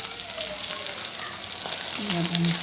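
A keema burger patty sizzles steadily in a pan, a dense close hiss throughout, with a voice briefly audible near the end.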